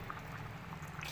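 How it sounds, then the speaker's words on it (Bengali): Cooked potato and pea vegetable curry poured out of a pan, a brief soft, steady liquid pour over low hiss. "সবজি তৈরি হয়ে গেছে। এখন আমি এটা ঢেলে নেব।"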